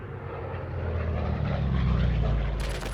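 A continuous engine drone with a deep propeller throb from U.S. military planes holds steady and loud, like a plane passing overhead.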